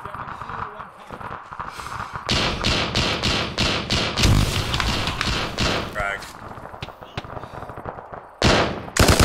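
A frag grenade thrown and detonating in Arma 3 amid a firefight: rapid bursts of gunfire and heavy booming thuds stack up, with a loud blast near the end, and voices talk over radio between shots.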